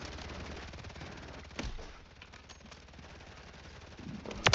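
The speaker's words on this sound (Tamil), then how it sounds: "புல்லட் மலையே பெய்யுது பாத்தீங்களா மேல." Rapid machine-gun fire in the Warzone 3 video game, a steady faint rattle running the whole time with a louder burst partway through and another near the end.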